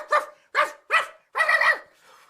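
A dog barks four times in a steady rhythm, loud and close, each bark short and sharp with a longer final one, then a faint trailing whine; no talking.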